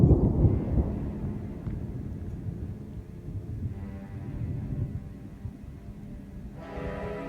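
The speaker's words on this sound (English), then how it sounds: "the thunder just rolls up here on this ridge" Thunder rolling over a mountain ridge during a backpacking trip, a low, sustained distant rumble that swells at the start and slowly fades across several seconds, with no voices.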